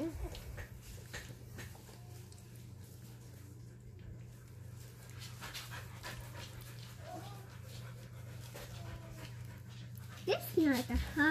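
A 17-day-old puppy pants softly and whimpers now and then under steady background chatter, with a few sharper yips near the end.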